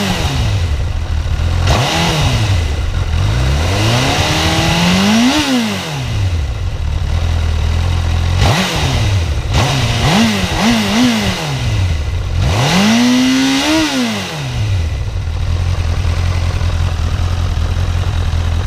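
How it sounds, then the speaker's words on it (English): A Honda CB1000R motorcycle on its stock exhaust, already warmed up, revving hard several times with rising and falling engine pitch between steady idling, loud and close throughout. "so that's the stock exhaust"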